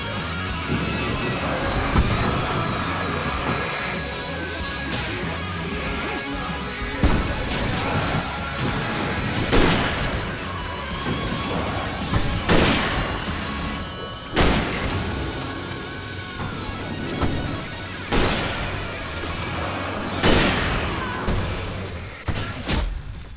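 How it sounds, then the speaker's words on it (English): Explosions in the video game Alan Wake: a dense, loud game soundscape with repeated heavy booms and crashing impacts spread across the clip, several sharp bursts standing out over a continuous rumbling background. "Explosion."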